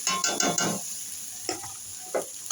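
Bitter gourd pieces tipped into softened, salted tomatoes in a hot pan, with a soft steady sizzle and several bursts of scraping stirring, close up and fairly quiet.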